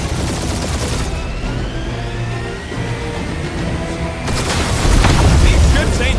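Ship gunfire in the Marvel's Guardians of the Galaxy video game, loud booming bursts and rapid fire over engine rumble, with a heavier blast toward the end.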